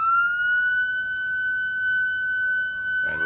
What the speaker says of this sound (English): as the sirens will go off here